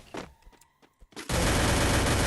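Gunfire in a ranked Free Fire match starts as a few scattered sharp shots, then erupts into a dense, loud, sustained barrage of overlapping fire close by.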